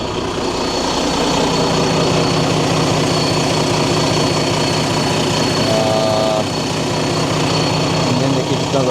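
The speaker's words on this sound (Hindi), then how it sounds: "इंजन देखिए कितना ज़बरदस्त, ब्रांड न्यू है।" Brand new truck engine idling with the hood open, a steady, loud, low rumble with a constant mechanical hum throughout and a brief tonal note partway through.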